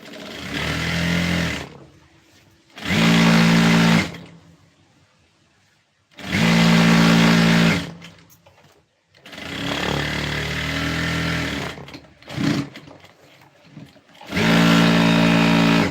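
A sewing machine running a straight stitch along the waist seam of a blouse, its motor whirring in several loud, close bursts separated by short pauses, with no voices.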